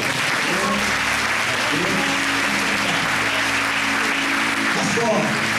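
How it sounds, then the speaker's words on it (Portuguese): Church congregation applauding during a baptism service, a continuous broad roar of clapping that fills the room, with a low sustained hum and faint voices underneath. "Você pode dar um aplauso"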